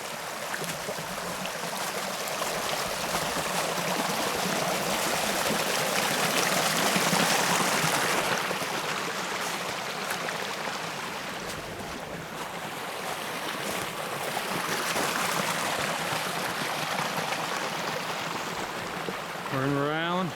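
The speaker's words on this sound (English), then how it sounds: "This is the other stream coming from Rhode Island" Stream water flows near a trail culvert, a continuous broadband rushing wash that stays steady and fairly loud throughout, mixed with some wind noise.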